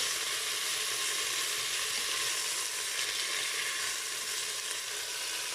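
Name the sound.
veal paupiettes browning and sizzling in a Cookeo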